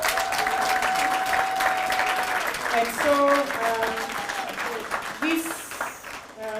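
An audience applauds steadily for a recipient at an integrity awards ceremony, a sustained broadband clapping wash with a few cheers and voices rising over it, easing near the end as a voice begins.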